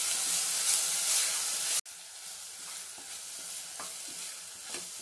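Steady loud sizzling of shredded cabbage and tomato stir-fried in a pan for cabbage kurma, with a brief cut partway through, then continued frying hiss and scraping stirs up close.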